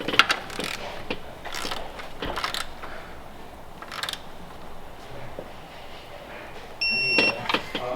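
A ratchet clicks in short bursts as 16mm bolts are tightened on a BMW crank hub, fairly quiet and close, with a few brief electronic beeps near the end.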